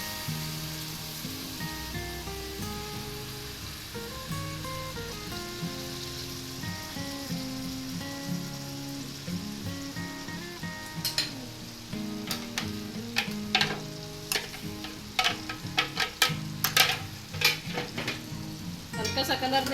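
Ground onion, garlic and green chili fry in a pan for Punjabi kadhi pakora, a steady close sizzle that turns into sharper popping and crackling bursts in the second half.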